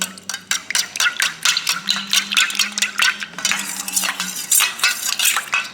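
Shampoo is stirred into water in which fenugreek seeds were soaked, producing quick rhythmic scraping and clinking strokes close by, with a faint low hum underneath.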